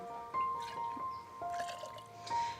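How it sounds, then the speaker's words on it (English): Two ounces of Bacardi rum poured into a cocktail with orange juice, a short liquid trickle with drips and a faint squishy splash, close and quiet, alone. "there goes in my 2 ounces of Bacardi"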